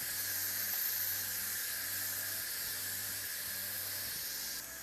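A pressure cooker vents steam after cooking potatoes, a loud steady hiss running unbroken from start to finish, with a faint low hum pulsing underneath.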